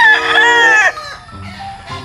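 A Perfection Roundhead gamefowl rooster crows once, loud and close, a long drawn-out call followed by a few softer clucks.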